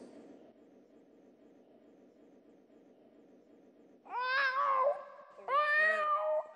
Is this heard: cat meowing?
yes